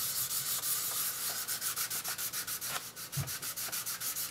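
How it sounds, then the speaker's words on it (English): Wet sanding the digi-camo rattle-can finish on a Peavey Patriot guitar body produces steady, close rhythmic back-and-forth rubbing strokes, each a soft gritty swish, repeating evenly with no talking. "You just sand until you don't need to sand anymore."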